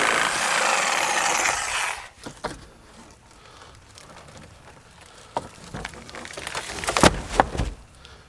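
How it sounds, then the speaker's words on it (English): A small DeWalt Sawzall reciprocating saw cutting through nails makes a loud, harsh, buzzing rasp for about two seconds, followed by scattered clicks and knocks of handling. "Give myself a little gap just to get the Sawzall in there, and then I can cut those nails."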